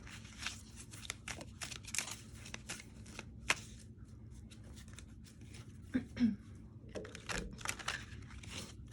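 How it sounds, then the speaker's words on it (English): Tarot cards shuffled by hand in a quiet room, a continuous soft riffling and flicking with frequent small slaps and snaps, close and faint, with occasional light handling noises. "I'm gonna go ahead and pull some tarot cards to clarify for you guys"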